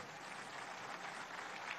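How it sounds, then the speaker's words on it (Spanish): Audience applause for the Bolivarian military aviation at a Venezuelan Military Aviation Day ceremony, a faint, distant, steady wash of clapping throughout the brief moment. "Fuerte los aplausos para nuestra aviación militar bolivariana"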